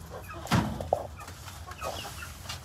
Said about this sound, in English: We have three chickens.